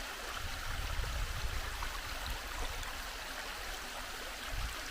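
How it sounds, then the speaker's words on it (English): Mary Steele Falls, a creek waterfall dropping over a ledge from a narrow channel on a hiking trail, gives a steady, moderately distant rushing hiss of falling water that continues evenly with no voices. "Beautiful waterfall."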